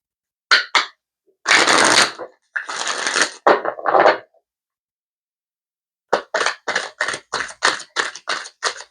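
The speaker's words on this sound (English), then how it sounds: "Supposed to be just one shuffle, huh?" A deck of tarot cards being shuffled: a few riffling bursts and short flurries up close, then a quick run of evenly spaced snapping card sounds.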